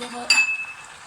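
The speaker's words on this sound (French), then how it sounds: "je vais rajouter des carottes qui sont surgelées" Frozen carrots drop into a cooking pot with a sudden bright clatter of hard pieces striking metal, followed by a short fading ring over quiet kitchen background.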